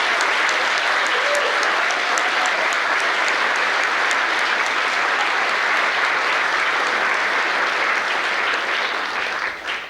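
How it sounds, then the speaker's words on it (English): Sustained, loud applause from a large crowd fills the whole stretch, dense and even, tapering slightly at the very end. "let's give them a round of applause."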